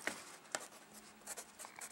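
A pencil scratches across a paper crossword puzzle, giving faint, close strokes with a few sharper taps, quiet and without talk.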